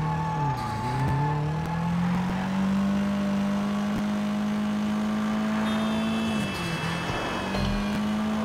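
A car engine in the video game Sleeping Dogs, resembling a Mitsubishi Lancer, drones steadily, its pitch rising through gears and dipping as it shifts, loud and close with road noise underneath.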